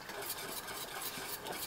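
Milk heating in a pot for béchamel for moussaka, close up: a continuous soft bubbling hiss with faint stirring scrapes, no talking.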